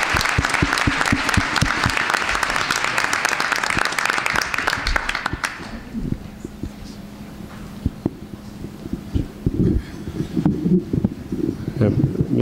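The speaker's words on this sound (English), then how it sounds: "please give a big round of applause" Applause from the audience at a school board of education meeting, loud and dense for about five seconds before stopping abruptly, leaving a quiet room with faint scattered sounds and brief speech.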